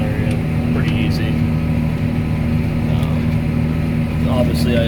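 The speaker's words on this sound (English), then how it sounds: "this tractor just plays with it around about 1500 RPM" A tractor pulling a disc through corn stalks at around 1500 RPM gives a steady, loud, close engine drone that runs unbroken from start to finish.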